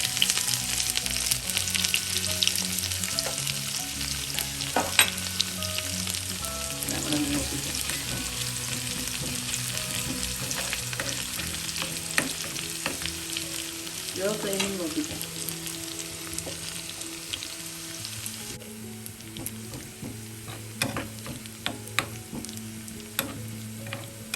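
Coconut pieces and shallots sizzling in hot coconut oil with popped mustard seeds for a Kerala Malabar chicken curry, a steady close frying hiss broken by scrapes and knocks of stirring.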